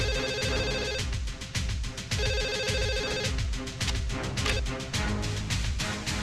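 A telephone rings repeatedly in steady bursts in a film scene, loud and close, set against a heavy music track with no talking.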